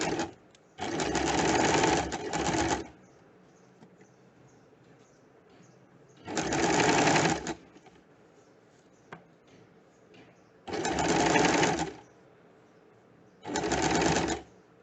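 A sewing machine stitches a kurta placket in four bursts of rapid, whirring stitching, each one to two seconds long, separated by quiet pauses with faint handling clicks.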